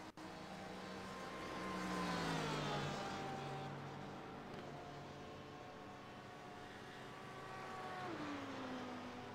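A Porsche 911 RSR race car in iRacing's IMSA series at Road America: a steady engine drone whose pitch climbs and falls through gear changes, with shifting harmonics and a continuous, moderately loud whine.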